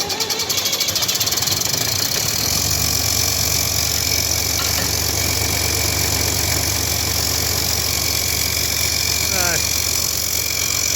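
A David Brown 880 tractor engine cranks over and settles into a steady, loud diesel idle with a rhythmic knock, running continuously close by; a brief voice cuts in near the end.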